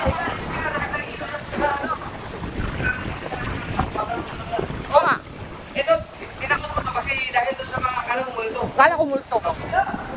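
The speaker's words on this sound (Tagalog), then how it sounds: "Sobrang mahangin po ngayon dito." Strong wind buffets the microphone in a constant rushing roar while people talk loudly over it outdoors.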